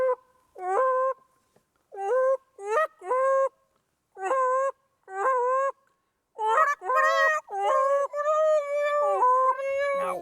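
A person imitates a Canada goose call: a series of short, loud, nasal honks in quick bursts, some doubled, with brief pauses, ending in a faster run of honks.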